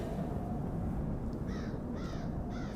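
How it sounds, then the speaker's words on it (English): Distant crows cawing in three short bursts over a steady, dense background wash of noise, added in post-production to a music video scene; faint and far away, no talking. "the crows that you hear in the distance, they're fake. We impose those in post."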